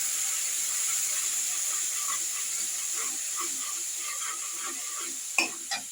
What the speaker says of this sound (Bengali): আর হলুদ দিয়ে দিলাম দিয়ে কিছু একটু সামান্য একটু নেড়ে একটু জল দিয়ে দেবো